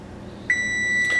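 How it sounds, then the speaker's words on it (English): A kitchen timer gives one sustained electronic beep that rings steadily until the end, loud and close, while hardtack bakes. No one speaks. "there goes our timer."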